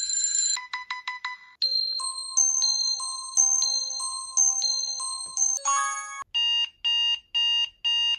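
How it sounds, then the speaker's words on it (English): Alarm tones from a 2010 HTC Android phone play close and clear: quick repeated beeps, then a bright stepping melodic chime pattern, finishing with a run of evenly spaced pulsing beeps. "So let's see what the alarms were like. Put an alarm sound."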